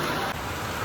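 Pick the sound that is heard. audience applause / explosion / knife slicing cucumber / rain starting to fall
rain starting to fall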